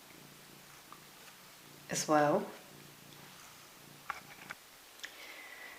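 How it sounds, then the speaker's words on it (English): A pet cat purrs briefly at close range, a short rumbling burst with a harmonic whine, amid a quiet room where a person speaks softly. "Okay, my cat's just jumped down now. She wanted to join us there clearly."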